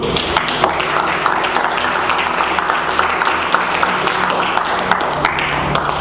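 A church congregation applauds the Lord with steady, sustained clapping that fills the room evenly from start to finish, with a few voices under it.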